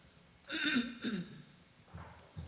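Two short, harsh bursts of a cough from a person with a cold, close and fairly loud, followed by a couple of fainter, lower rasping sounds.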